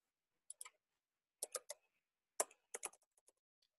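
Keys clatter on a computer keyboard in short bursts of quick taps with pauses between, close and crisp in an otherwise quiet room.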